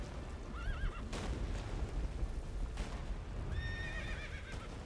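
A horse in The Witcher 3 video game whinnies twice over steady hoofbeats and a low rumbling background.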